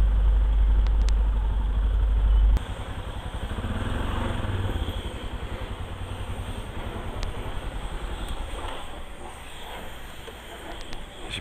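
A Yamaha Ténéré adventure motorcycle idles with a normal, intact exhaust note, a steady low engine rumble close by with wind buffeting at the start, on a mountain plateau ride.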